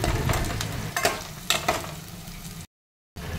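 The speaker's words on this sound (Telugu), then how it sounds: "ఒక 2 నిమిషాల పాటు బాగా వేయించుకోవాలి" Sliced onions and lengthwise-slit green chilies fry in a pan for aloo fry, giving a steady close sizzle with a few stirring scrapes before a brief cut-out near the end.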